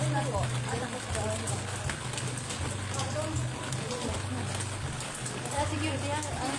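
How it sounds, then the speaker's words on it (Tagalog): Steady rain falls in a continuous close hiss throughout, with people talking over it. "Rain, rain."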